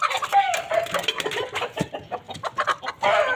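Aseel hens cluck and squawk in quick, agitated bursts up close while being caught, a flurry of overlapping calls with brief scuffling.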